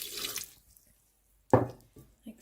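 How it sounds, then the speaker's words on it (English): Warm water poured from a container into a flatbread flour mixture in a kitchen, a short splashing pour after a quiet pause, close and fairly loud, with a brief trickle following. "And then I'll add in the rest of that lovely warm water."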